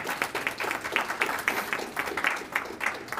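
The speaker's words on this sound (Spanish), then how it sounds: "Un aplauso fuerte, porque se lo merece." Conference audience clapping in a fairly small room, a moderate crowd with some individual claps standing out in an uneven rhythm, softer than a full ovation.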